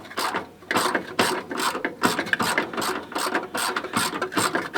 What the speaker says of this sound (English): Do you guys have ratchets that halfway through taking a bolt out decide to change their lever position?